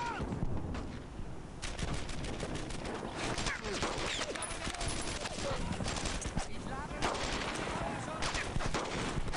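Dense gunfire in Brothers in Arms: Earned in Blood, a World War II shooter, with rapid overlapping rifle and machine-gun bursts filling the whole stretch, loud and continuous, with scattered voices mixed into the battle.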